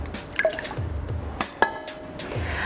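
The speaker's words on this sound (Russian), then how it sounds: "выливаем в чашу кухонной машины весь наш белок" Egg whites poured into the bowl of a stand mixer in a home kitchen, giving a few soft liquid splashes and drips with small glassy clinks, quiet and close, no talking.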